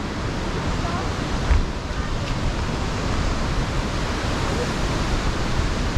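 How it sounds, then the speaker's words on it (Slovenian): Štrbački buk waterfall in Bosnia roars with a dense, constant rush of falling water heard close up from the lower viewpoint. "zdaj smo tle na slapu"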